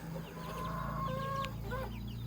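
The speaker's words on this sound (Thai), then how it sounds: "มีไก่งวงน้อยมีไก่งวงใหญ่มีไก่น้อยไก่ใหญ่สลับซับปนกันไป" Chickens and turkeys, both young and grown, on a free-range farm, clucking and calling close by with short overlapping cries and a few higher drawn-out notes.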